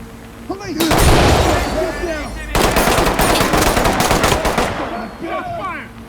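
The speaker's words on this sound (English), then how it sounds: "Shots fired! Shots fired!" Rapid automatic gunfire erupts during a tactical police breach in the shooter game Ready or Not, loud close bursts hammering for several seconds with a brief gap, then tapering, while voices call out underneath.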